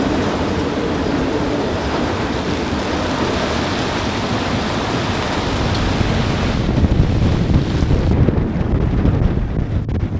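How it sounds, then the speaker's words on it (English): Gale on a damaged sailboat fleeing a hurricane, 25-knot sustained winds gusting to 45: a loud, continuous roar of wind buffets the microphone throughout, swelling harder toward the end with rushing, rain-like hiss. "we are seeing the 25 knot sustained winds with 45 knot gust"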